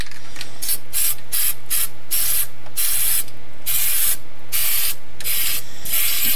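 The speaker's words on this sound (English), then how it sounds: "It's been so long since I've used my spray paints." An aerosol spray paint can hisses in a series of short, close bursts of varying length, separated by brief pauses, while quiet background hum runs underneath.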